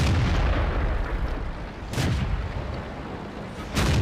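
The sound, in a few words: tank cannon shot in World of Tanks video game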